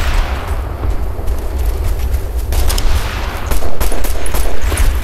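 Heavy sustained gunfire and distant booms in the military shooter Operation Flashpoint: Red River, a dense, loud, continuous rattle of rifles and machine guns with no break across the whole stretch.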